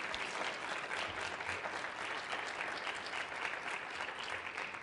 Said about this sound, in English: Please give Janelle and our panel members another round of applause.